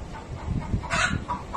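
A hen clucks and squawks in agitated bursts while being chased across a rural yard, with scuffling and movement around it and a sharper cry near the middle.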